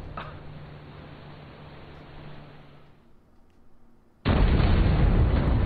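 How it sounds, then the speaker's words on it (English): An explosion in the video game Final Fantasy XV: a muted rumbling bed of game sound drops away briefly, then a sudden loud, sustained blast of noise hits and keeps roaring to the end. "Explosion."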